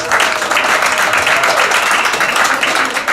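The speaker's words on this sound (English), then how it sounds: "give her another big round of applause" An audience at a comedy show in Washington DC applauds, a dense, steady wash of many hands clapping loudly and close for the whole stretch, with no break and no voices standing out.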